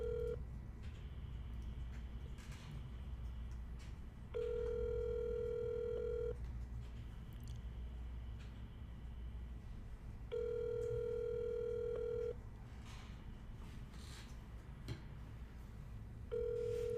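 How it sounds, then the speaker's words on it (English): Outgoing phone call ringback tone: a steady electronic tone sounding in three evenly spaced bursts about two seconds long, separated by roughly four-second pauses, faint over a quiet room hum. "when I pick up, it's already dialing Nick's phone"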